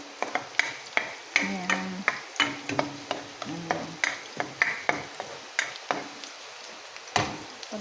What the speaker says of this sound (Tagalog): Para itustos ng konti yung garlic niya.